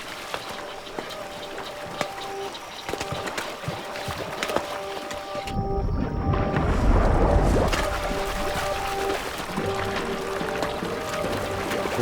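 Water churning and splashing with masses of fish jumping and feeding, a dense bubbling roar that swells midway and stays loud and close, with no talk over it.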